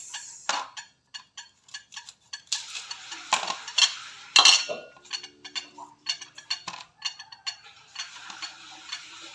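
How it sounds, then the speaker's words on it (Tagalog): A pot lid clatters and rattles against its cooking pot in a string of sharp, uneven metallic knocks, with no talking. "Ang ingay ng takip ng kaldero."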